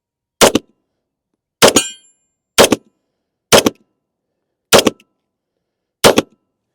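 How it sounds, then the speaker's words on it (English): A police trade-in handgun fires six loud, sharp shots at roughly even one-second intervals, each a crisp crack that dies away into silence before the next. "So as you can see, functions, fires."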